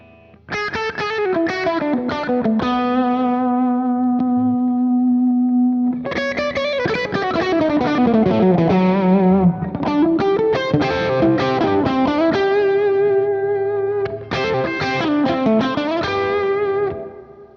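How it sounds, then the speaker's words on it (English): Heavily distorted James Tyler Dann Huff Black Classic electric guitar on the bridge pickup, through a Friedman amp, plays sustained chords and ringing riffs, loud and saturated with a bright, biting edge. "distorted tones, which I'll demonstrate when I get over to the bridge"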